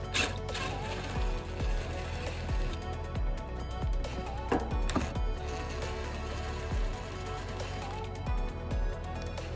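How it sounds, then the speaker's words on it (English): A socket wrench ratchet turning a 10mm socket to remove bolts on a 2017 Mercedes GLC 300 during a trailer hitch installation, giving steady rapid clicking strokes in repeated bursts up close, with no talking. "There's going to be 2 more bolts that we need to remove using a 10mm socket"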